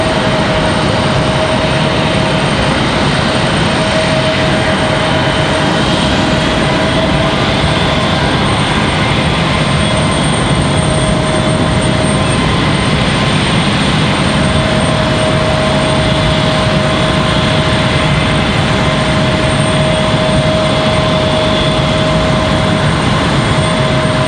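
A Delta airliner bound for Detroit at Raleigh-Durham airport gives off a loud, unbroken engine roar and rumble in stormy weather, with a steady tonal whine running through it.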